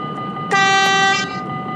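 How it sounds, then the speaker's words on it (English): A train in the Metro Simulator 4 video game sounds a loud, clear horn for just under a second over a low running rumble, with no voices. "Now I'm trying to not make this train's running noises sound like a shotgun"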